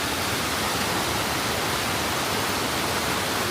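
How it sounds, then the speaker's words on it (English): Broadband rushing water from waterfalls near picnic areas below the Maiella mountains in Abruzzo, Italy, a steady, dense roar throughout with no voices over it. "all of these beautiful waterfalls and picnic areas"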